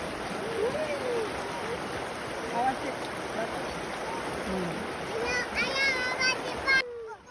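A river at the Sisi Cai campground in Sentul, Bogor, runs steadily while people splash and play in the water in the late afternoon. Children's and adults' voices carry over the constant flow.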